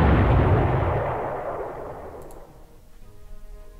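A single heavy cannon shot aimed at a destroyer in the wartime strategy game Panzer Corps Gold, booming loud at once and then rolling away into a long fading rumble.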